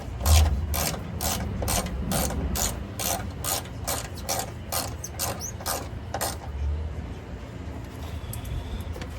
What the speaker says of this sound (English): I'm tighten that bolt up there that looks loose.